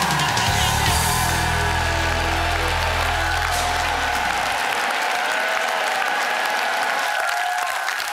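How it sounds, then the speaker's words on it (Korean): A studio audience on a Korean TV quiz show applauds a contestant's correct answer with loud, dense, sustained clapping, while a low musical tone sweeps downward and fades over the first half. "다시 한번 축하의 박수 부탁드리겠습니다"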